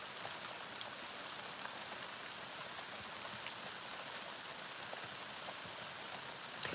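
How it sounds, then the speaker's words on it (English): Steady rain hisses evenly in the small town of Bella Coola, a dense wash of drops falling without pause, with no voices. "Can you see the rain coming down?"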